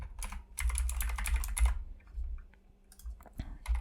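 Close typing on a computer keyboard while coding an Android app, a quick burst of clustered key clicks, a brief pause, then a few more scattered keystrokes.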